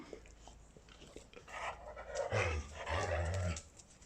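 A dog rescued from a shelter pants heavily and close by, a rapid breathy rhythm that builds after a quiet start and runs for a couple of seconds, with no talking.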